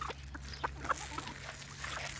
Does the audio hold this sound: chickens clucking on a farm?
yes